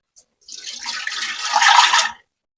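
Rice water pours into a container for houseplants in a steady, splashing stream of about two seconds that builds and then stops abruptly, close and fairly loud, with no talking.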